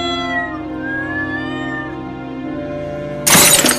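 A cartoon kitten gives a drawn-out, wavering meow, then a sudden loud crash bursts in at the end.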